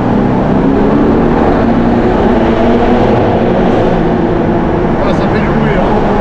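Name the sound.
Lamborghini Urus twin-turbo V8 engine revving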